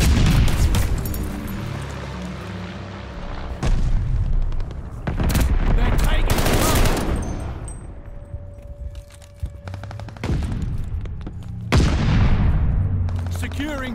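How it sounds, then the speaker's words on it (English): A bombing run in a video game sets off heavy booming explosions and rattling bursts of gunfire, loud and near, spread across the stretch with short lulls and some in-game voice callouts between blasts. "Teammate called a bombing run."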